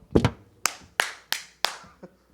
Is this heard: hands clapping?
yes